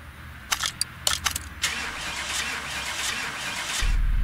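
A damaged car's engine is started in Car Mechanic Simulator 2018. A few sharp clicks and brief cranking bursts are followed by a rising whir, then the engine catches into a steady low idle at the end.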